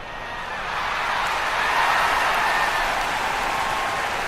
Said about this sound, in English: The Tigers lifted by the noise of the crowd as they make their way onto the ground.